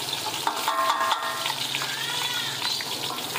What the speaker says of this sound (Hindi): इसको इसी तरीके से चलाते हुए हम प्याज को ब्राउन करेंगे